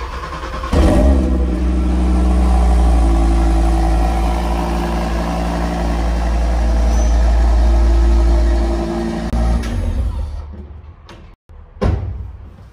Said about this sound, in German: wir fahren erstmal das Auto raus